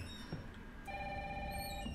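In the Resident Evil 3 video game a phone rings with a steady electronic tone that sets in partway through and holds at moderate level, over low game ambience with no talking.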